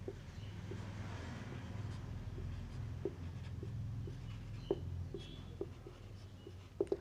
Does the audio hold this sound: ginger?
no